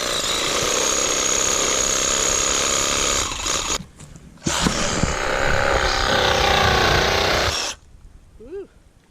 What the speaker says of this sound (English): And now we're trying a sawzall.